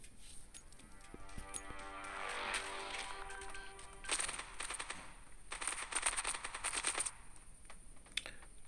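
Rapid bursts of gunfire in the video game Standoff 2 crackle in quick volleys, with sharp clicking shots and a brief tonal hum underneath, fairly faint and distant.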